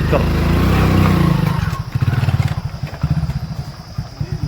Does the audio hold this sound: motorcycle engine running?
yes